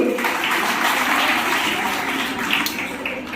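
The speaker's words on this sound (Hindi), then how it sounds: "जोरदार तालियां हिंदी के लिए।" A crowd claps heartily at a Hindi Diwas celebration at Gandhi Bhavan, producing a thick, continuous wash of applause that stays loud and even throughout.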